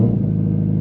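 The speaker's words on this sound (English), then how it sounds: "Let's do one more launch, just to celebrate all the great years of this muscle car" A 2023 Dodge Challenger Black Ghost muscle car engine growls low and strong at launch, a brief, loud, deep rumble with no voices.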